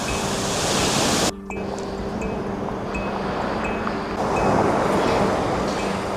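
Waves wash steadily onto the shore at Marina Beach, Chennai, a dense, loud roar of surf that briefly dips and then swells again, heard close with a faint steady hum underneath.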